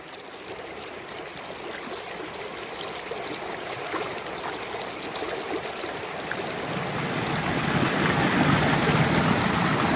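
A river stream flows beside a jungle path in winter, its steady broadband rush of water continuous throughout and growing louder and closer toward the end, with no voices.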